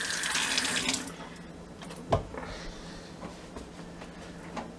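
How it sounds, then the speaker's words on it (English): Hands being washed under a running kitchen tap: water streams loudly for about a second, then softer splashing and rinsing follow, close by, with no talking. "let me wash my hands a little bit"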